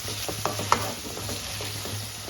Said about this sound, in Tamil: சேர்த்துட்டு இதையும் நல்லா வதக்கிடலாம்.